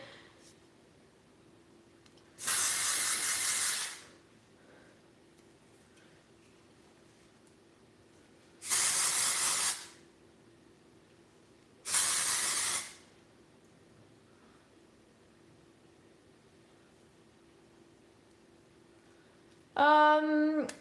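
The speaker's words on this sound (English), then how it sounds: "now I'm gonna go in with my volumizing texture spray" Volumizing texture spray hisses onto hair in three separate bursts, each about a second long, with quiet pauses between them. A brief voice is heard at the end.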